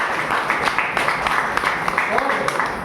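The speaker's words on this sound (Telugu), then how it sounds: "క్లాప్ కొట్టండి సార్కి" An indoor audience at a Vestige business plan meeting claps for a speaker, a brief burst of scattered, uneven hand claps with a voice talking over it.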